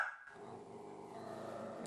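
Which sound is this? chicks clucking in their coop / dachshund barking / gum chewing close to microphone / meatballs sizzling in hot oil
dachshund barking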